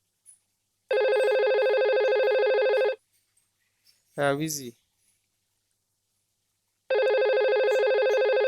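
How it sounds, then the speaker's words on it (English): A VoIP phone call rings out in two long electronic ring bursts separated by a pause, with a brief spoken word between them. "Yeah, it's ringing. See, ringing out."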